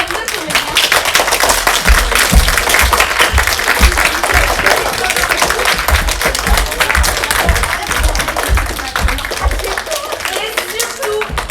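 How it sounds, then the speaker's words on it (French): Audience at a French primary school show for CM2 pupils gives the child actors loud, dense applause that runs steadily throughout, with a voice heard over the clapping. "Applaudissez de nouveau encore bien fort tous ces petites grecs de comédiens."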